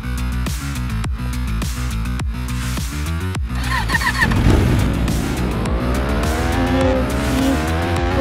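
A KTM motorbike in a racing video game roars continuously with a steady engine drone, then its tires squeal in a skid as the pitch swoops and revs change, loud and with no talk.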